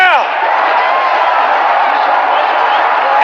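A cricket stadium crowd roars and cheers after a big six hit into the stands during a BPL match, a loud, sustained, dense wash of voices with a commentator speaking over it.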